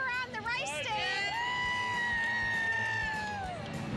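Crowd cheering and whooping for a race team at an outdoor event, a sustained swell of yells and screams from many people, fairly loud and continuous over background chatter.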